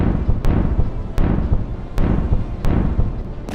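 A Bradley fighting vehicle's gun fires on enemy positions in the Avdiivka direction: five sharp, heavy reports spaced under a second apart over a continuous low rumble, loud and with no voices.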